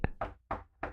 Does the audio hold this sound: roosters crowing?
no